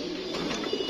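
A racing pigeon coos softly after landing in a short, close, steady burst against a faint background hum.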